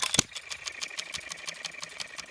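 A small model hit-and-miss engine for sale runs steadily at close range, giving a fast, even ticking chatter that is faint and alone, with one sharper burst at the start.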